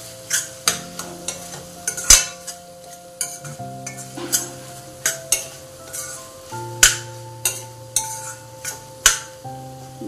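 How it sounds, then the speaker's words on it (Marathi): Paneer bhurji is stirred in a pan with a utensil, giving a run of sharp, regular metallic scrapes and taps roughly once a second, close and fairly loud over a quiet hum. "थोडे हलवून घेऊयात।"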